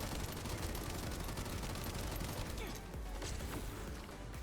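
Rapid hip-fire bursts from the Excava weapon in The First Descendant crackle as dense, loud gunfire, easing into a slightly quieter scatter of shots and impacts near the end.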